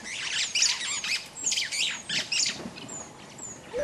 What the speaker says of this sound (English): Just beyond this termite mound were some Vulturine Guineafowls.